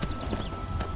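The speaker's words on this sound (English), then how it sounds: "here's another horse. What is going on with these horses?" Horse hooves clip-clop in the Skyrim video game, a quick, soft run of muffled steps under steady background noise for about a second.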